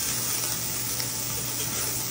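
Ground meat sautés in olive oil with onion and garlic, a steady, close sizzle and crackle of frying in a pan, continuous with no talking.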